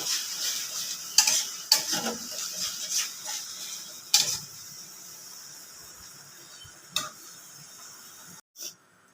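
Soft sizzling of poppy seeds frying with salt and turmeric in a pan, a spoon scraping and stirring in several bursts, then quieter frying and a couple of light clinks.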